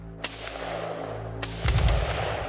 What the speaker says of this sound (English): That is where we start hearing gunshots.